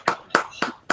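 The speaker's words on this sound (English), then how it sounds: "I don't need a round of applause" A few slow, distinct hand claps from a live-stream audience, four sharp close claps spaced evenly apart in an otherwise quiet moment.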